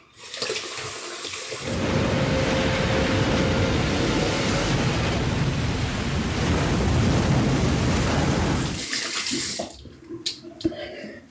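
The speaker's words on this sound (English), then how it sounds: "All right, let's rinse off." Tap water runs steadily into a sink for several seconds as someone rinses off after a wet shave with a Rockwell 6S safety razor, then stops, leaving small splashes and drips.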